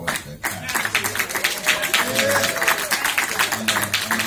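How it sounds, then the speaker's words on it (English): An audience at a film festival Q&A claps for a film's cast, a moderate ripple of applause mixed with crowd noise while a voice talks over it. "Please, one more round of applause for all of that"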